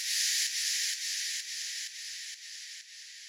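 A white noise hit effect, a bright airy burst of filtered noise that starts loud and steps down in level over about three seconds, pulsing faintly as it fades, alone with no other sounds.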